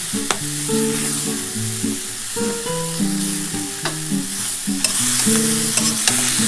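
Tomato hits hot oil in a pan for a fish curry, giving a continuous sizzle and fry with steady stirring, while tuneful music plays underneath.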